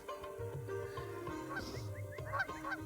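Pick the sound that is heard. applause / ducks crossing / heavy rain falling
ducks crossing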